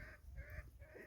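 A chicken clucks in short repeated bursts close by, outdoors on a farm, with a low background rumble and no talking.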